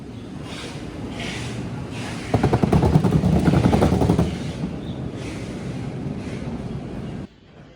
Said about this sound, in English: The small wheels can be very loud and roll over obstacles poorly.